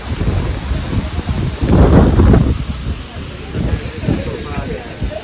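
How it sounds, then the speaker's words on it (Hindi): Strong wind in a village buffets the microphone in heavy, roaring gusts that swell and fade, with a voice speaking faintly beneath. "इतने समय मौसम ख़राब हो चुका है, बिल्कुल हवा चल रही है।"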